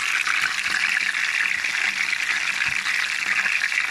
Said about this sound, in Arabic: حطيت الفراخ في الزيت اهو، هديها صدمه